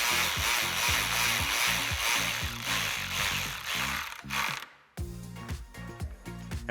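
A ratchet with an 8mm socket tightens stock hardware on a 2011-2022 Dodge Charger 5.7L HEMI cold air intake install, rapid close clicking in a steady run, then a brief gap before more clicks.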